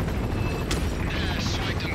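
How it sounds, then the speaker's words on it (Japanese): A helicopter blows up in the video game Resident Evil 4: a loud, sustained burst of roaring explosion noise over rumbling rotor sound, with a sharp crack partway through. "大爆発。"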